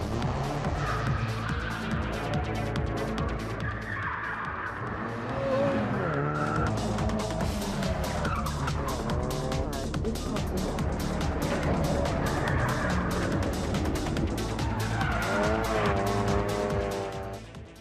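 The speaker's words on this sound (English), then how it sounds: "it was his job to show off how well the car handles, even when pushed to the limit by maneuvering past some expensive obstacles" A rally car skids and squeals its tires while being pushed hard around expensive obstacles, engine revving and tires screeching in repeated bursts, with a voice talking over parts of it.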